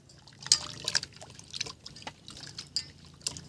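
Water splashes and drips irregularly as cut papaya is washed by hand, with several sharper splashes early and quieter trickles and drops after, close by with no talking.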